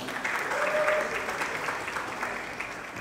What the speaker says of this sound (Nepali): यस्तो मिठो चलचित्र भावनाले जोडिएको चलचित्र लेखिदिनु भएकोमा भानुभक्त सरलाई जोरदार ताली।